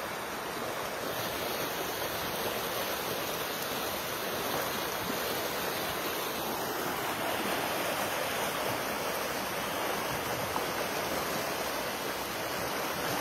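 Rainwater flooding and rushing across a rural property after about three hours of heavy rain, a dense, continuous roar of flowing water that stays steady and close throughout.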